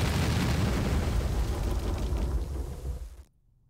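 Missiles blowing up in the game Interactive Buddy, a loud rumbling burst of explosions that roll on for about three seconds before cutting off abruptly into near silence.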